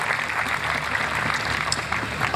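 Crowd applause for the organizers at a taekwondo championship in Lahore, a steady dense wash of clapping held at an even level throughout.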